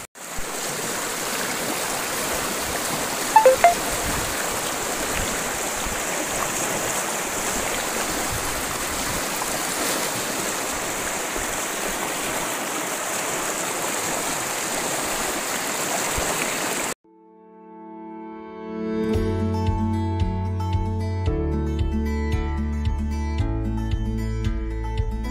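Steady rushing of a natural stream flowing over rocks at the Balasan river, close and continuous for most of the clip, then cut off abruptly as synthesized music takes over.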